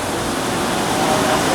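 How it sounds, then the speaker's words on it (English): Wood-fired maple syrup evaporator boiler heating about 400 gallons of sap, giving a dense, steady roaring hiss like rushing water, loud and continuous. "we are fired up, and that is the sound of the boiler heating."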